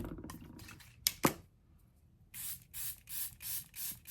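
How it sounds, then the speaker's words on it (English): A spray bottle fires about seven quick, crisp hissing spritzes in a steady rhythm, close by, after a couple of soft clicks and handling noises. "Let's spray this down so that it will stay."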